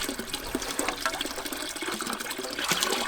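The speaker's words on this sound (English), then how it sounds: "So this is our well water, which we just use for irrigation." Well water running for farm irrigation, a steady broadband splashing and trickling rush that fills the whole clip at an even, fairly close level, with no voices.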